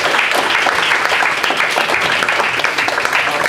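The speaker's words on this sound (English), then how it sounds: "a big round of applause for Tristan" An audience at a community all-candidates debate night claps steadily and loudly for several seconds, a dense, continuous wash of applause with no talking over it.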